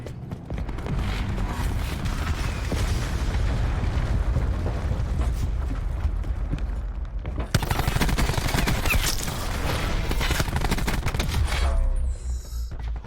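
Dense gunfire in a shooter video game's Blackout mode: rapid, loud bursts of shots and impacts run almost continuously, with a sharper, louder flurry starting midway.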